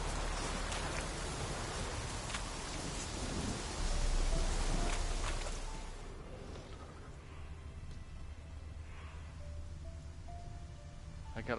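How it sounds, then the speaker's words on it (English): Steady rain pours in a dark swamp at night in The Witcher 3, a dense hiss with a few distant rumbles, heavy at first and then easing to a lighter patter. "It's dark, it's raining, I'm in a swamp."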